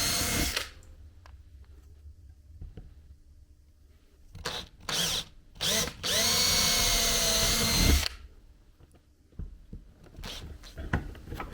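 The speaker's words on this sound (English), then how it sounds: "I'm using a 2mm drill to make the holes in the board." A small 2mm power drill bores holes in a board for an H0 scale model railroad guardrail: several short bursts of whining motor, then one longer steady run, close up, separated by quiet handling noises.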